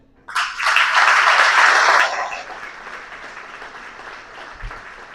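Applause erupts suddenly from the audience at a military brigade gala's head-table introduction, holds dense and loud for nearly two seconds, then drops to a lighter lingering clatter.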